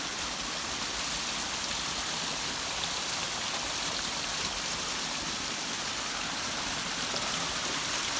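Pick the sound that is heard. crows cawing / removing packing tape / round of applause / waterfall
waterfall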